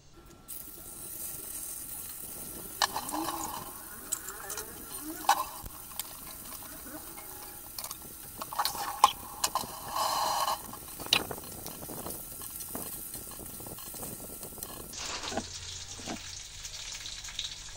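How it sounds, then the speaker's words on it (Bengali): Tilapia fish frying in hot oil in a wok, a continuous sizzle with sharp bursts of spitting and crackling, plus utensil clinks, moderately loud and close, with no talk. "এখন তেলাপিয়া মাছগুলি ভেজে নেব"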